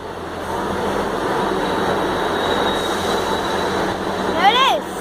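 A train, unit 158883 in new livery, moves through Exeter Central station with a steady, loud rumble, and a short wheel squeal rises near the end.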